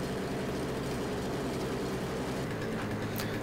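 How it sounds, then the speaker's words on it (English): A freshly started snowblower engine runs while warming up, giving off a steady, loud, unbroken mechanical drone with no variation in pace. "now that we have started the blower, we're going to give it a few minutes to warm up."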